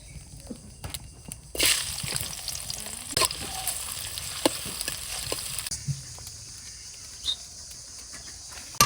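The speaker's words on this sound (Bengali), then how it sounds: "তেল গরম হয়ে গেছে, পেঁয়াজটা দিয়ে দিই।" Chopped onion hitting hot oil in a home kitchen, a loud sizzle erupting and holding steady as a continuous crackling hiss for several seconds, easing slightly near the end, with no voices.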